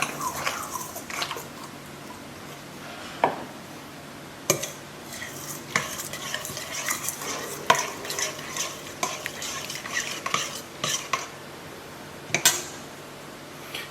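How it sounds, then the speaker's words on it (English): Lard being stirred into peanuts in a mixing bowl for peanut cookies: a spoon scrapes and knocks against the bowl in irregular clicks and taps over a quiet background, with no talking. "So the first thing we'll stir in will be the lard."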